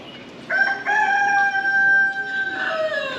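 A rooster in a yard with chickens in Dien Bien Phu, Vietnam, crows loudly and close by, a long drawn-out call with a second crow starting near the end.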